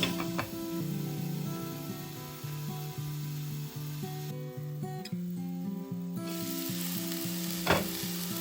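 Baby jackfruit with salt and turmeric cooking covered in a pan gives a steady, even sizzle that runs close and unbroken under a faint tonal background, with one soft knock near the end.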